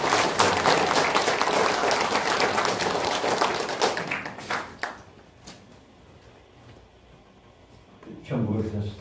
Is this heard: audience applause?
yes